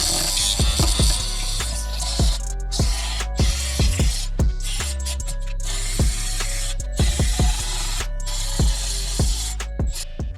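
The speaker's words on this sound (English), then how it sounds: "I'm gonna switch up the wire wheel for the grinding disc." A grinding disc with 120 grit scuffs a Boss 302 intake manifold, a steady loud abrasive whir running continuously with repeated sharp scraping bursts and clicks as the disc catches the metal.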